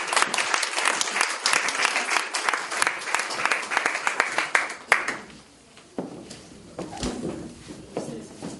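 A church congregation breaks into loud, dense applause for about five seconds, then the clapping thins and dies away as quieter voices and room sounds take over.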